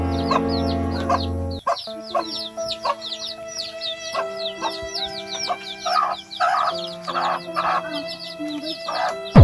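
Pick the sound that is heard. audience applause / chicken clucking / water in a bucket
chicken clucking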